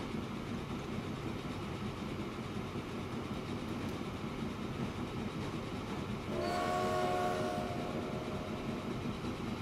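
A train rolls along in the railway game Transport Fever, giving a steady rumbling clatter. Partway through, a sustained horn blast sounds over the running noise.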